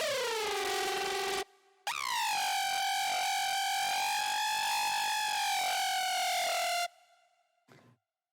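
Chaos Screech preset from the Fragment Audio Doomsday Serum pack: a loud, bright, nasal synth screech with rich harmonics, a short note, a brief gap, then a long sustained tone that wavers slightly before cutting off, followed by a faint tail.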